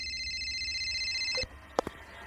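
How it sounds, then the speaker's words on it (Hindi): A telephone rings in a horror drama scene, a steady electronic ring tone that cuts off abruptly, followed by a few short knocks or clicks. "लेकिन तभी जेराल्ड का फोन बज उठा।"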